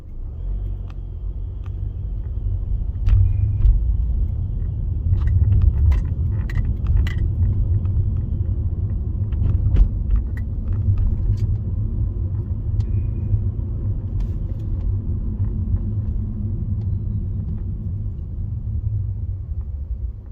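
A car rolls along a city street near the Tennessee Aquarium in Chattanooga and swings through a U-turn. Steady low engine and road rumble fill the cabin, with a few faint clicks and rattles.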